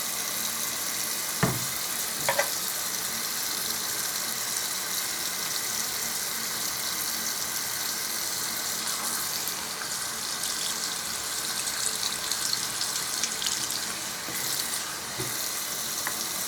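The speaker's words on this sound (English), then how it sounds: "And then rinse it off. Use your fingers, really feel in there, make sure everything's out of the bristles" Steady hiss of tap water running into a sink while paint brushes are rinsed, with a few brief clinks and knocks over the constant close wash.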